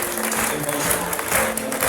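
Clapping rises from guests at a Rwandan traditional wedding ceremony, with steady, dense applause mixed with chatter and voices throughout.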